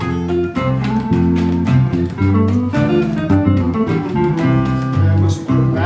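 A guitar plays a country-style riff with chromatic passing notes, a steady run of plucked notes ringing close and clear with no talking over it.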